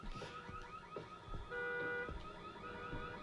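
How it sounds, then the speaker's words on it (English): Car alarm sounding in the horror game Visage, a steady electronic warble with repeating tonal whoops and a louder held tone midway, fairly close and without speech. "Don't go into another reality just because your car alarm's going off."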